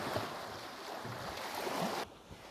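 Ocean waves wash steadily in a broad, continuous noisy roar heard alone, then drop away abruptly to a quieter background near the end.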